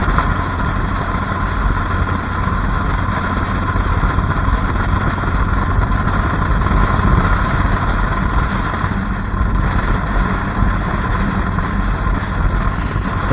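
A motorcycle cruising on a brand-new asphalt road in Winter Garden, Florida, a steady loud engine drone mixed with rushing wind noise, continuous and close, no talking.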